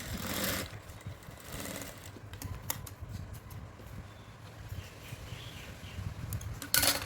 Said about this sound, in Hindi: अब हमें इन्हें डबल सिलाई करके मजबूत कर लेना है।